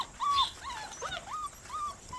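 Puppies whimper and whine outdoors in a series of thin, high, rising and falling cries, close and fairly loud over faint background noise.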